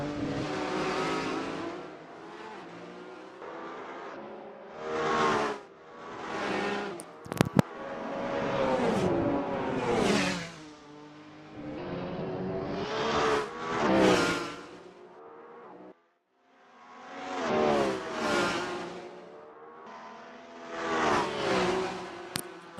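Formula Alfa single-seater race cars in a sim racing league, engines screaming and shifting through gears as they pass in repeated waves, rising and falling in pitch, with brief gaps between passes.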